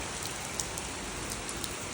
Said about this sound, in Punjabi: ਕਾਫੀ ਜ਼ਿਆਦਾ ਮੀਂਹ ਪੈ ਰਿਹਾ